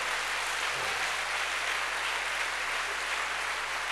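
A church congregation applauds and cheers for the Lord, a dense, steady wash of clapping from a large crowd that holds evenly for several seconds.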